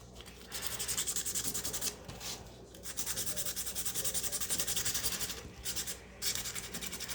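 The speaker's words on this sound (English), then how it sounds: "I've got here 100 grit sandpaper, and I'll just roughen up the edges so it grips the glue better" Sheets of 100-grit sandpaper rub across the edges of foam earmuff earpads in close, raspy back-and-forth strokes, several scratchy passes separated by brief pauses.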